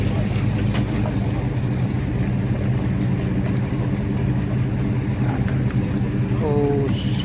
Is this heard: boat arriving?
yes